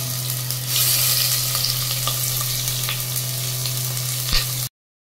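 Tomato and onion paste frying in a pan for a butter chicken base, a dense, steady sizzle with a faint low hum underneath. The sizzle stops abruptly near the end.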